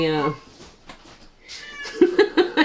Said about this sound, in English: our cat's complaining about the service that he's getting today again.